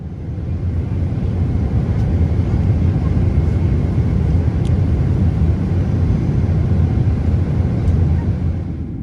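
Steady, loud low cabin rumble inside a Turkish Airlines Boeing 777-300ER on approach to Chicago O'Hare, a constant engine and airflow drone with a few faint clicks.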